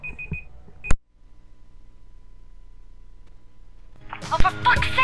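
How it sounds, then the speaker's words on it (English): An alarm goes off in the zombie video game Dying Light: a short beeping burst and one sharp electronic hit, then a low hum, before loud game sounds and a voice come in at the end. "Turn the damn alarm off or you're going to get overrun!"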